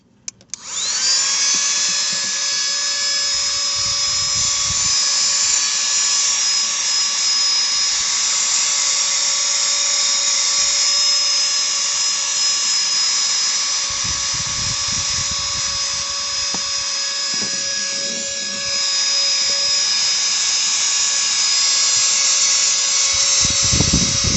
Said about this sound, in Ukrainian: прибирає дуже гарно цей пилисмок